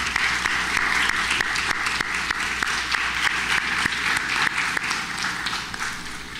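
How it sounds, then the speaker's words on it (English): An evening leadership forum audience gives sustained applause, a thick, even roar of many clapping hands with a few sharper individual claps standing out, no talking. "Everyone give them a round of applause."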